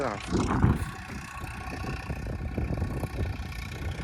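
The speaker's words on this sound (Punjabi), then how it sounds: "ਟਰੈਕਟਰ ਤਾਂ ਮਿੱਤਰੋ ਬੰਦ ਹੋਣ ਨੂੰ ਤਕਾਉਂਦਾ ਆਉਂਦਾ" A low tractor engine rumble runs steadily throughout as the tractor works a potato field nearby, with a murmur of talk over it.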